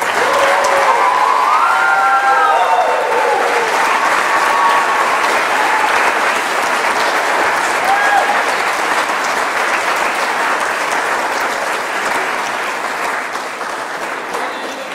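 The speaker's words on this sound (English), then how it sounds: "And one more round of applause" Graduation ceremony audience at Vanderbilt applauding, loud sustained clapping from a large crowd with a few cheers and shouts mixed in, tapering slightly toward the end.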